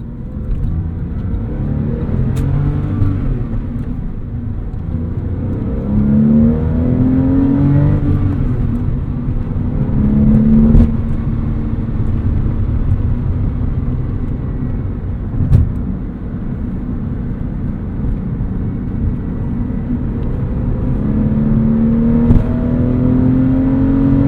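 Rear-engined 2002 Porsche 911 accelerating and revving from inside the cabin, steady loud engine drone with repeated rising pulls and brief dips between gears, no talking.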